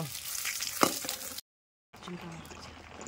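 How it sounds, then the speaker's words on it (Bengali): Oil sizzles and crackles steadily in a pan, briefly cutting out to silence before the frying hiss resumes. "তো ডিম ভাজা হয়ে গেছে, এবার তুলে নেব।"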